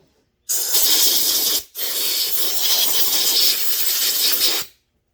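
Brake cleaner sprays from an aerosol can in two loud, close hissing bursts, a short first blast, a brief pause, then a longer steady spray that cuts off sharply.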